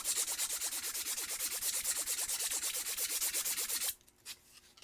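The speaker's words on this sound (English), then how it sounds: "I want to finish sanding this piece and maybe the other" Sandpaper rubs over a piece of wood in quick, regular back-and-forth strokes, close and steady for about four seconds. It then stops, leaving a couple of faint scrapes.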